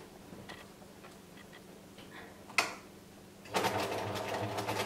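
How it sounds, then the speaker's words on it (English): Domestic sewing machine ditch stitching through fabric along a boxer shorts hem, a few short ticking bursts, then the motor running in a steady close whir. "So when you are ditch stitching, remember to pull the fabric tight so it is not all gathered together"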